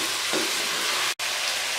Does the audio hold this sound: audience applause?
no